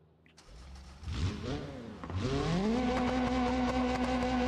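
A Hiroshi drift car in the BeamNG video game starts up and revs, its low-powered engine climbing in pitch and then holding a steady, loud drone close by, with no one speaking.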